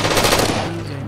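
Rapid automatic gunfire from the video game Halo 4, a loud close burst of shots that tails off into a fading ring, with no talking.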